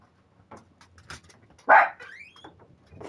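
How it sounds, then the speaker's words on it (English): A dog in the video game The Last of Us Part I gives one sharp, loud bark amid quiet, scattered background sounds and softer distant noises. "The dogs are barking."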